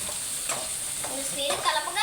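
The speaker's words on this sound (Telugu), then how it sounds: "బాగా కలిపేసుకోవాలి" Upma mixture stirred in a pan, a spoon scraping in a few distinct strokes over a steady bright sizzle from the hot pan.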